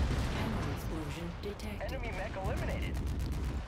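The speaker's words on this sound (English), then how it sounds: "Ammo explosion." In the mech combat video game MechWarrior 5: Mercenaries, an ammo explosion rumbles as a continuous low roar of blasts and crackling debris, with a voice talking over it.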